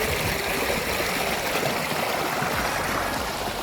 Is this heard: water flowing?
yes